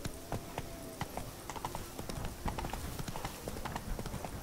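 A horse in a video game trots along with steady, rhythmic clip-clopping hooves over a constant ambient bed.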